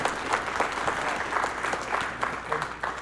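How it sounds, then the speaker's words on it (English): An audience at the Sacramento Darwin Day event gives a round of applause, a dense, sustained wash of clapping filling the room with scattered louder claps and murmured voices beneath. "Round of applause to everybody who's raising their hand."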